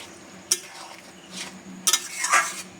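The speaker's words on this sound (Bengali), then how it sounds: "পনির কটাতে দিয়ে একবার নেড়ে নেবো ভালোভাবে" Fried paneer pieces are stirred into boiling water in a pot, giving a few short, faint spoon scrapes and clinks over a quiet bubbling background.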